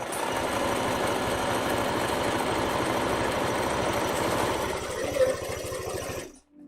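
A home sewing machine stitching steadily on a table set on Z-frames, a dense rapid mechanical chatter that runs continuously for most of the stretch, then slows and stops near the end.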